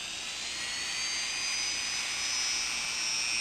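A Dremel rotary tool drills into a plastic model torso, giving a steady, loud high-pitched whine that holds constant throughout with no pauses.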